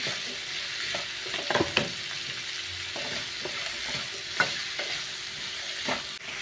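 Ingredients for Thalassery-style kameera are sautéed in a pan, giving a steady close sizzle broken by repeated scraping and stirring strokes of a spatula, with no talking.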